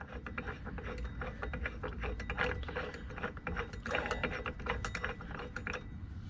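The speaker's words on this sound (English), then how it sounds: "I would hit it with the ratchet and it'll pull it right out." A ratchet clicking steadily as it turns out a part during engine removal on a Can-Am Commander 1000, a dense run of close, loud mechanical clicks with no talking.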